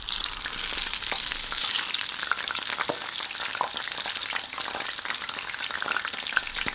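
Breaded eel deep-frying in a pot of hot oil, a dense continuous sizzle with crackling pops and bubbling spread evenly throughout, close and moderately loud with no talking.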